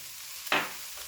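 Garlic hits a hot pan for fried rice, a single sudden sizzle burst midway that quickly fades back to a low background hiss.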